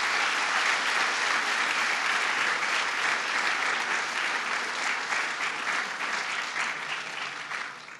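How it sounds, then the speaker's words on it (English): A seated audience at a New York governor's education budget bill-signing event applauds the state legislature with dense, steady clapping that lasts about eight seconds and eases slightly toward the end, with no talking over it. "So let's give them a round of applause."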